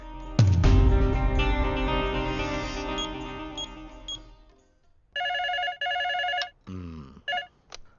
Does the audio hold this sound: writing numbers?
no